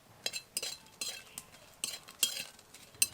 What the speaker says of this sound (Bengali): শুকনো লঙ্কাটা হালকা ভাজা হয়ে এসেছে।